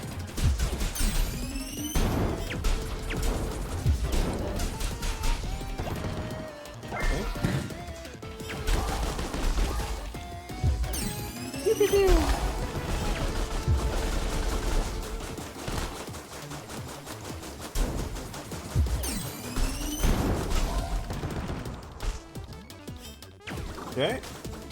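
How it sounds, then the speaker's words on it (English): Mortars fire in a factory-building video game, with repeated bursts of blasts and crashes arriving in clusters, separated by busier game noise at moderate loudness. "Oh, they fire mortars."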